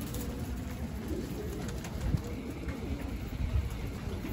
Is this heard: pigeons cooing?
yes